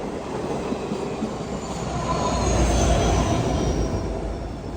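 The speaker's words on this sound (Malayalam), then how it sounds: "ഇത് കൊൽക്കത്തയിൽ സിൽച്ചർ പോകുന്ന ഒരു സ്പെഷ്യൽ ട്രെയിൻ ആട്ടോ" A special train from Kolkata to Silchar passing close by another train in Assam, a steady heavy rumble of wheels and carriages with a faint high squeal, swelling slightly in the middle.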